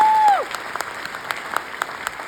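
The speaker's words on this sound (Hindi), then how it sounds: "जोरदार ताली सर के लिए" Scattered applause from a meeting audience, sparse individual claps spaced unevenly, following a brief sliding electronic whistle-like tone at the start.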